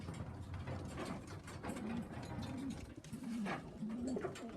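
Pigeons kept in a loft coo in soft, repeated rolling calls, several phrases spaced through the stretch, heard close over light rustling and shuffling.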